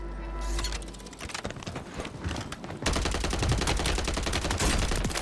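Rapid gunfire from a no-recoil Striker loadout in Call of Duty Warzone on Fortune's Keep, a dense, continuous burst of shots that grows louder and fuller halfway through.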